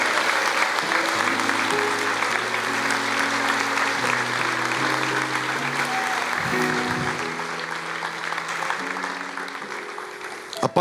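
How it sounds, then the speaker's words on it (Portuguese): A church congregation applauds together in a steady, dense wash of clapping, with sustained musical tones from an organ or keyboard running underneath throughout. "Aplauda ao Senhor, querido."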